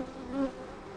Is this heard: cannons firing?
no